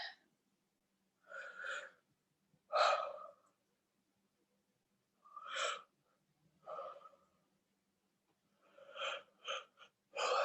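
During a guided lung and heart breathing session, a person takes a series of slow, deep breaths in and out, each a distinct airy swell separated by silent pauses, close and clear.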